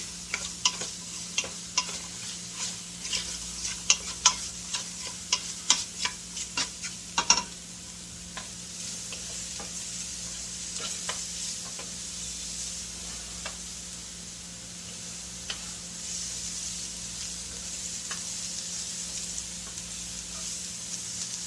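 Garlic fries in a pan to a browning sizzle, a constant hiss with clustered sharp clinks of stirring in the first several seconds, then calmer steady frying with occasional taps.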